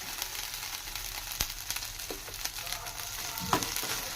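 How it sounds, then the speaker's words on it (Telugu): Ginger garlic paste fries in a pan for a village-style snail fry, a soft continuous sizzle with a few sharp clicks and scrapes of a spoon, close and fairly quiet, with no voices. "ఈ జింజర్ గార్లిక్ పేస్ట్ కొంచెం అలా పచ్చివాసన పోయే వరకు ఫ్రై చేసుకుందాం"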